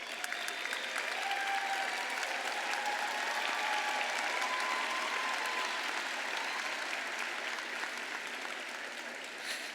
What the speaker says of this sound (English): Would the grandparents of the candidates please stand and receive our applause?